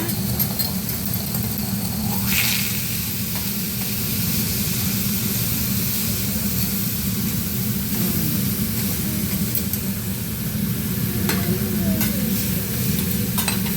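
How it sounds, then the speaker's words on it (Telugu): Oil sizzling on a hibachi grill in a Japanese restaurant in America, a loud, continuous close-up hiss and crackle under a low steady hum of the room, with faint clinks now and then. "అంతా ఇట్లా ఫాగ్ లాగా పొగలాగా వచ్చేస్తుంది లోపల నుంచి. ఆయిల్ ఏదో వేసేసాడు."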